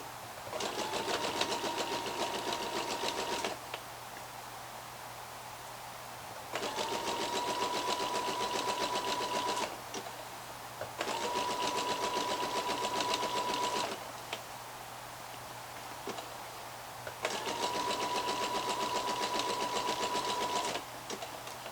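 A sewing machine runs in four sustained bursts with brief pauses between, stitching stretchy leggings fabric over a seam with a steady humming whir and a faint background hum throughout.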